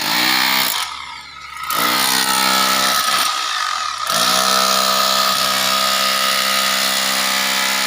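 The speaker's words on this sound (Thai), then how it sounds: "อันนี้เขาก็สิเจาะใส่ ท่อน้ำทิ้งนะครับ" A power drill bores into a drain pipe at a roadside drainage-pipe job, its loud, steady high whine running almost throughout, easing off briefly twice before resuming.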